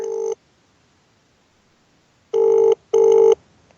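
Telephone ringback tone for an outgoing call, one burst at the start and then two more after a pause, clear and close with no talk.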